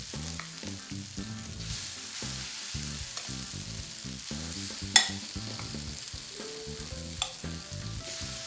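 Spoonfuls of potato and broccoli fritter batter fry on a hot plancha, crackling and sizzling in dense, irregular bursts with a sharp clink near the middle and another later, close up with no talking.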